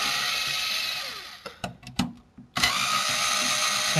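A power screwdriver backing screws out of a PlayStation 3 20GB console under repair, a loud steady whine that cuts to a few short bursts and clicks before spinning up again, close and alone.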